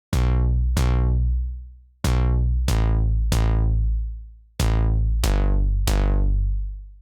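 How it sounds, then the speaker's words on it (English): A loud, punchy secondary synth bass line from a synthpop track plays alone: eight sustained, heavy notes, each starting with a sharp attack and bright tone that mellows as it decays, in a steady rhythmic pattern. "The other new track is a secondary bass"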